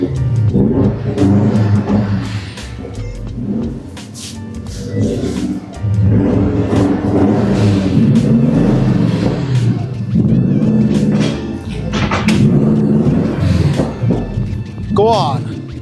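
A project car's engine revs hard through its exhaust with the rear back box fitted, a loud throaty roar surging and falling over and over while several people talk throughout.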